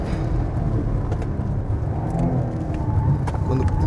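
Peugeot 306 GTi-6 hot hatch lapping a race track at speed, its engine droning loud and steady from inside the car throughout, with no talk over it.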